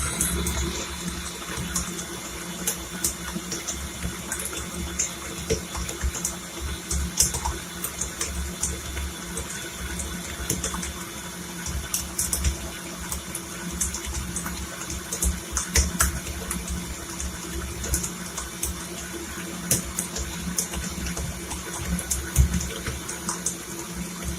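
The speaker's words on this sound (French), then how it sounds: "je vais mettre le robot à toute puissance" A stand mixer runs at full power, kneading sfenj dough for Moroccan doughnuts, giving a steady, dense whirring churn with a constant rumbling body and a few brief clicks, alone with no talking.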